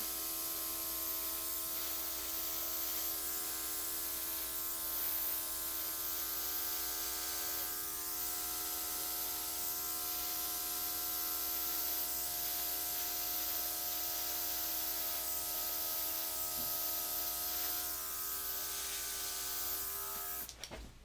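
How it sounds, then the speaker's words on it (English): An airbrush blows a steady, faint hissing stream of air over a fall-colors acrylic dirty pour, with a continuous thin buzz-like tone running unbroken for about twenty seconds, alone without speech. "I'm just going to grab my little airbrush and blow."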